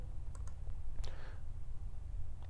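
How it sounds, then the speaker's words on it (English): Typing on a computer keyboard, a few light, close key clicks spread over a couple of seconds against a steady low hum. "So I'm going to go in and type in zero."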